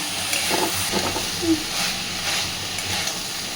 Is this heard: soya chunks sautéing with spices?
yes